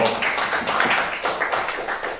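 An audience at a school gathering claps together in a dense, steady patter of many hands, fairly loud and continuous throughout with no talk over it.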